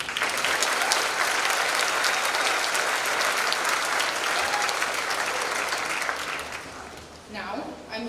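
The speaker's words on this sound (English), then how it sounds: "If we could have another round of applause." Graduation audience at a high school ceremony breaks into sustained applause, a dense wash of clapping that holds steady for several seconds before tapering off, with a voice beginning to speak near the end.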